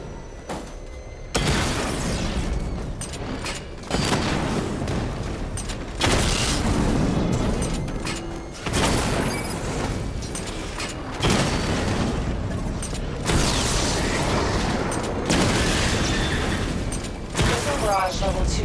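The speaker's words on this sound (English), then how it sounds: "Charge up missile barrage to level 2 and destroy 4 active targets to complete diagnostic test." Missile barrage explosions in the Batman Arkham Knight video game, a series of heavy booms and blasts arriving in repeated waves, loud and close, with a voice speaking over parts of it.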